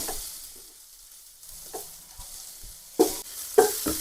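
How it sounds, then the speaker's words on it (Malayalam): Coriander powder fries in a pan for an Angamaly-style pork and Chinese potato dish, a faint quiet sizzle with a few sharp stirring scrapes near the end. "ഒന്നര ടീസ്പൂൺ മല്ലിപ്പൊടി ഇട്ട് കൊടുക്കുകയാണ് ഇതും ഇതിൻ്റെ ഒരു പച്ചമണം മാറുന്ന വരെ ഒന്ന് ഇളക്കുക"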